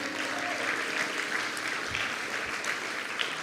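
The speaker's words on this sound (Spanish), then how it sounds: "yo creo que es digno de aplaudir" Steady audience applause fills the whole stretch, a dense even patter of many hands clapping at a moderate distance with no voices over it.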